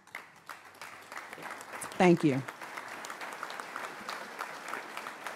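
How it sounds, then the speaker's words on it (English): Police academy graduation audience rises and applauds, a sustained wash of clapping from a large hall crowd, while someone briefly speaks over it partway through. "Let's stand up and applaud your family and your friends."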